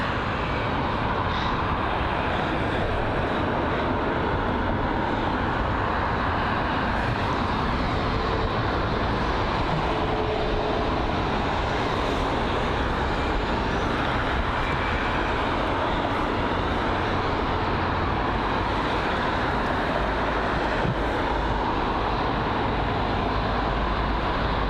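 An Airbus A220 passes at London Heathrow with a steady, broad jet roar that holds at a constant level for the whole stretch, fairly close and with no talk over it.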